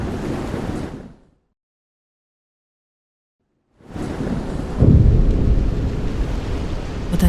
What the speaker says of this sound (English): to a loud boom of thunder.